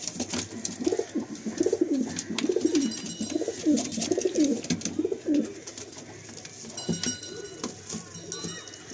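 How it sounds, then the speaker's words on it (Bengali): Pigeons in a loft give repeated low, rolling coos in a steady rhythm, close and moderately loud, with someone talking over them at times and faint rustling in the background. "কত সুন্দর সুন্দর পায়রা দেখুন"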